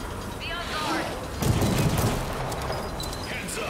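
Gunfire from the VR game After The Fall comes in dense bursts of shots and booms that are loudest in the middle, with a player talking over them.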